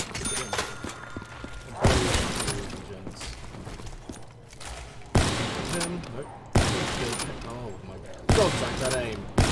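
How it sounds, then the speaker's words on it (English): Gunfire in Call of Duty Black Ops 3 Zombies on the remade Nacht Der Untoten map, a sniper rifle firing several heavy booming shots at irregular intervals, loud and close amid dense game noise. "Let's just snipe some fools from a distance, see how we do."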